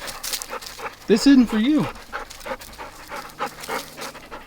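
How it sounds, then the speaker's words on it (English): Dogs pant and whimper close by, restless after being shut indoors, while a person speaks to them over the sound. "Silly dogs."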